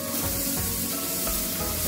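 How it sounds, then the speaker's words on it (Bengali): Sliced ridge gourd sizzles steadily in hot oil in a pan over high flame, a close, continuous frying hiss with no one speaking. "ঝিঙেটা একটু ভেজে নিই"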